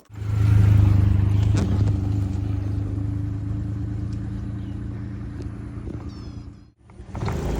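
Steady low engine hum and road rumble from inside a car being driven, loud at first and then easing, with a brief dip near the end before it resumes.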